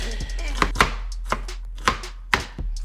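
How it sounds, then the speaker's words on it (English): A knife chops onion finely on a cutting board for a mango corn salsa, with sharp, irregular strokes, mostly single cuts with a few quick pairs, close and distinct against a low steady hum. "y'all know how to slice up onions, right?"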